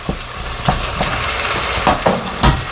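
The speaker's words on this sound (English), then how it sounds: "now I'm going to add probably about 4 or 5 cloves of garlic here" Garlic cloves sizzling in a pan with chicken, a steady close frying hiss broken by several soft scraping stirs, with no talk.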